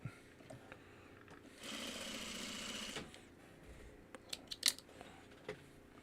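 A sewing machine runs in one burst of about a second and a half, stitching a quilt block, followed by scissor snips and small handling clicks.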